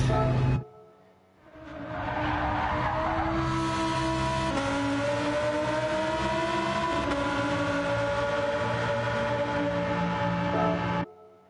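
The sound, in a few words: race car engine revving in Gran Turismo 7 video game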